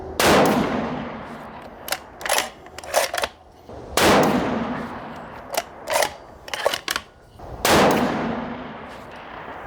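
Rifle shots from a 6.5 PRC with a Krieger barrel at a range: three loud, sharp cracks spaced a few seconds apart, each with a decaying boom, separated by bursts of metallic clanking.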